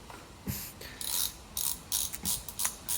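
A 36 mm socket wrench loosens the stock oil filler cap on a Triumph Thruxton R motorcycle, giving close, bright ratcheting clicks in quick irregular bursts with short pauses between them.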